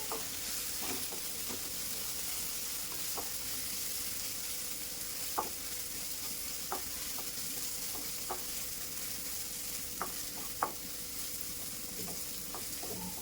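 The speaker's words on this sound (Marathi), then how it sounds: "त्यामध्ये मी ऍड करणार आहे आलं लसूण आणि हिरवी मिरचीची पेस्ट। आणि तीही फ्राय करून घेणार आहे।" Ginger, garlic and green chili paste frying in a pan for a dry prawn masala, a constant soft sizzle with occasional sharp clicks of a spoon stirring, close and alone without talk.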